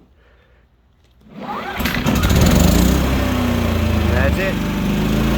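A portable generator running on propane starts up after quiet handling noise, then settles into a loud, steady close engine drone, with a brief spoken remark over it.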